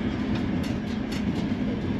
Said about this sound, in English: As you can see, the train is moving.